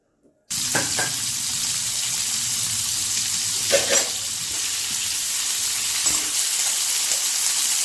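Cauliflower hitting hot oil in a pan bursts into a sudden loud, steady sizzle after a brief silence, continuing evenly with a few stirring knocks.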